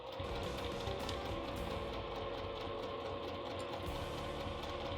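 Sewing machine stitching slowly around the curved edges of a small wristlet bag at a 2.5 mm stitch length, a continuous close humming drone with a faint rapid needle chatter.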